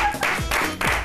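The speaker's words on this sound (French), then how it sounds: "On va applaudir Awa." Studio audience of a French-language evening TV talk show applauding a guest, a dense, steady wash of clapping that swells in waves over about a second.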